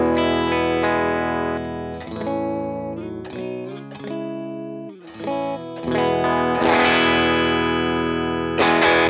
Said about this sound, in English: I've got it gained up pretty high. This is giving me my sort of edge of breakup sound that I like.